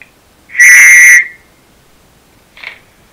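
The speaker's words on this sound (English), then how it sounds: "The whistle" A shrill whistle blasts once loudly for about half a second, followed by a much shorter, fainter toot.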